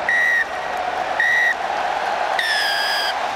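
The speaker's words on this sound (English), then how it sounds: "Jérôme Garcés gives the blast of the whistle, and England are the first team to go through to the semi-finals" A referee's whistle sounds over a loud stadium crowd at the end of a Rugby World Cup quarter-final between England and Australia, giving three separate shrill blasts, the last one longest, while the crowd roars steadily underneath.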